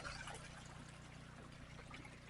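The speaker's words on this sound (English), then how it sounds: "We've got the sluice running. It's running pretty good." Water runs steadily through a gold prospecting sluice at a creek, a faint, continuous trickling wash with no talk.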